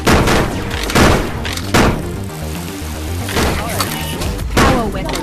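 Rapid laser tag blaster shots from a Rec Room match, several loud bursts repeating every second or so and layered over busy game noise and excited voices talking.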